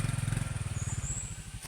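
Motorcycle on a rough rural road, its engine putting out a steady low, pulsing rumble close by with faint background noise.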